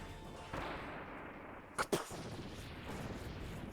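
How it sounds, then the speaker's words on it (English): An attack in a Kirby video game lands as two quick, sharp gunshot-like cracks in rapid succession, loud and punchy above a low steady game background. "This sounds like a gunshot."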